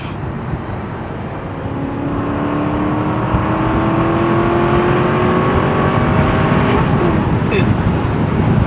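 An Aston Martin V8 Vantage Volante engine accelerates on a road, a loud steady V8 roar climbing in pitch through the gears, heard from inside the car over wind and road noise.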